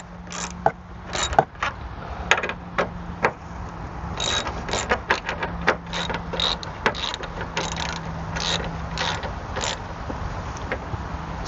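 A ratchet tightens a car battery clamp bolt, clicking in short uneven bursts of sharp ticks up close, with pauses between strokes over a faint steady hum.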